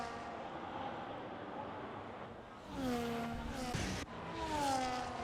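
Formula 1 race cars in the F1 25 video game at the Mexico circuit: a steady engine drone that rises into loud, pitch-sweeping whines as cars accelerate and pass close by, ending in another rising engine note.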